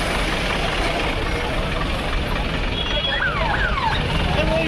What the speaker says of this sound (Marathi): आता गाडी आपली बाहेर काढत आहे